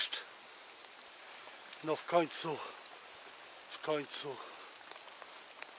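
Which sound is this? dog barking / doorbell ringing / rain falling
rain falling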